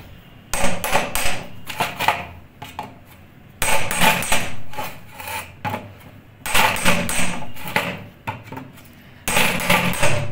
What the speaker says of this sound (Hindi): इसको तोड़ने के लिए हम ये छेनी लेके आए हैं और ये हथौड़ी है